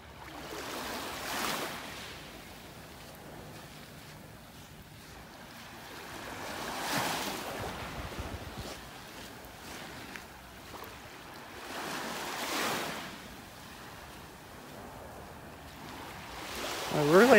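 Gentle waves wash onto a beach in North Naples, Florida, rising and falling in slow surges every few seconds under soft wind noise, fairly faint and unhurried.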